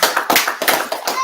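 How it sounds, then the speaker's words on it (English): A small gathering claps for Troy X at a Moorish American spring equinox celebration, a short burst of uneven, fairly close hand claps with some voices mixed in. "Let's give our brother Troy X a round of applause"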